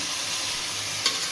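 Chicken pieces mixed with turmeric frying in a pan, giving a loud, dense, steady sizzle with one brief scrape of a spoon. No voices.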